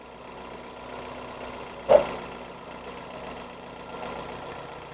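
A 2012 Hyundai i30 engine idles after an engine swap, with idling trouble and an idle speed control fault. A steady low hum runs throughout, with a single short knock near the two-second mark.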